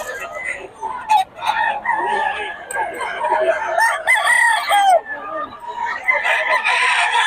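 Several gray gamecock roosters crow and cluck close by, with overlapping calls rising and falling throughout and a lively, dense flock sound.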